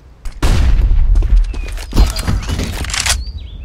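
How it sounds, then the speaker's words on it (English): A flashbang grenade goes off in Counter-Strike: Global Offensive, a loud close burst amid a clatter of game noise and footsteps, with a second bright crack and a high ringing tail near the end. "I'm throwing the flashbang."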